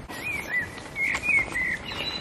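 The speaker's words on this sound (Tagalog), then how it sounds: "ang sarap naman ang huni ng mga ibon" Birds chirp and sing outdoors near a hotel in Bonn, Germany, bright repeated whistled notes in short phrases over a faint ambient background.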